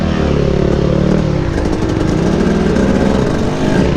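A dirt bike engine revs and burbles continuously on a tight single-track trail, its throttle rising and falling in quick pulses, loud and close throughout with no talk.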